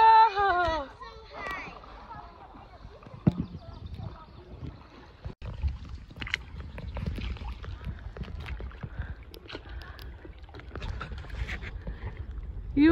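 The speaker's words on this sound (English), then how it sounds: "You are pretty awesome at paddling" Paddles dip and pull as a small boat moves along the San Juan River, with soft splashes and knocks on the hull heard under frequent nearby talk and children's voices.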